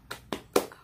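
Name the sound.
children doing the tepuk semangat clapping routine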